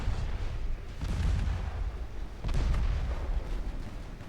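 Incoming 9- and 14-inch naval shells in the Ultimate Admiral Dreadnoughts game, rendered as heavy rumbling booms and splashing explosions, two main loud bursts around rolling low-end thunder, with no talking.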